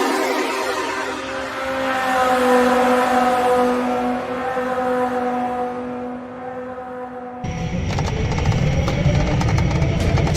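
An engine running with a steady whining harmonic tone that shifts partway through into a harsher, broadband roar as full throttle comes on, loud and close.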